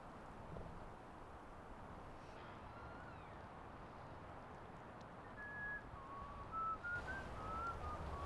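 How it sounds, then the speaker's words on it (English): A person whistles outdoors near a bird trap, thin pitched tones coming in short phrases over a steady windy background, faint and fairly close, with no talking. "stop whistling"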